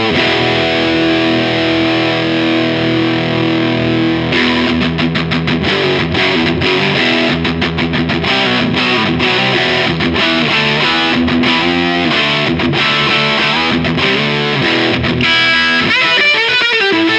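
High-gain electric guitar through a Kernom Ridge overdrive pedal set for a thrash metal tone with scooped mids and boosted treble, loud distorted chords and fast palm-muted chugging riffs throughout.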